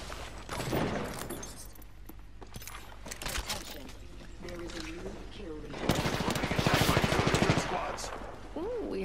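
EVA-8 shotgun fire in a shooter video game, a run of loud, rapid blasts in clustered bursts, heaviest toward the end, mixed with other game effects while a voice talks throughout.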